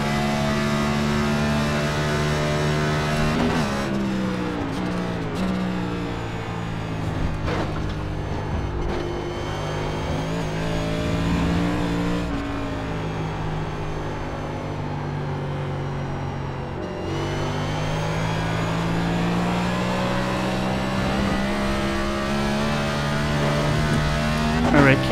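A NASCAR Cup race car in the iRacing sim at Watkins Glen drones in third gear up a hill, its engine note labouring and slowly rising and falling in pitch at steady volume, with someone talking over it.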